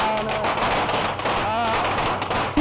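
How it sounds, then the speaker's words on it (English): Firecrackers thrown at a street parade in Fujian, a rapid loud crackling barrage of bangs, close and continuous, with crowd voices mixed in. "they basically throw fireworks as the, I don't know, what are they, ghosts?"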